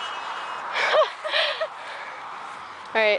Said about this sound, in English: We're getting beeped at.